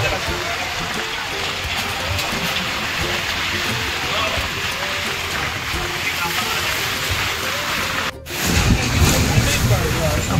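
Heavy monsoon rain at Raigad fort near Pachad, a dense steady downpour roaring close by, with an abrupt change in texture near the end.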